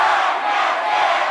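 A student cheering section roars and shouts at a high school girls' basketball game, a sustained, loud wall of crowd voices filling the gym without any break.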